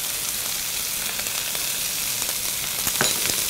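Squash, onions and pepper sizzle steadily in a hot pan for a zucchini stir fry, with soft scraping and stirring clicks as seasoning is mixed in, close and fairly loud, no voices.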